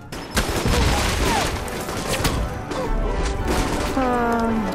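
Missile launch and explosions in the video game Alpha Protocol, a loud sustained barrage of blasts and crashing impacts with rumbling booms and a tonal game sound toward the end, close and dense.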